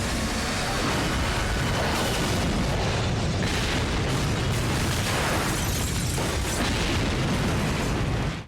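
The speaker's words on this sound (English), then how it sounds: "the entire building turns into a massive fireball" A building erupts into a massive fireball in the 2003 Teenage Mutant Ninja Turtles animated series: a loud, sustained roaring blast with rumbling debris that carries on for several seconds before cutting off abruptly.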